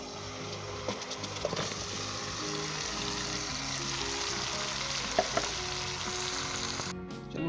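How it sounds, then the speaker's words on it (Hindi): Marinated chicken sizzles in a pan of browned onions for a dum-style yogurt chicken curry, giving a steady, close frying hiss broken by a few sharp clicks and scrapes of stirring. "तो अब हम इसके अंदर ये मैरिनेट किया हुआ चिकन शामिल कर देंगे।"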